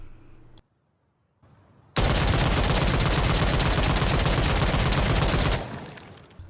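A G3A3 battle rifle fires a sustained burst from a deployed foregrip bipod while crouched in the shooter game Insurgency Sandstorm, the loud continuous volley running for several seconds before cutting off, with no talk.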